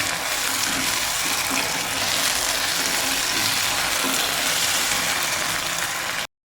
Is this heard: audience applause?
no